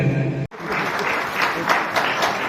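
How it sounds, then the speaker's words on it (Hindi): An audience claps steadily at a school ceremony, a dense, close burst of applause that briefly cuts out, then carries on evenly. "तालियां बजनी चाहिए, लगे कि आप उपस्थित हैं यहाँ पर"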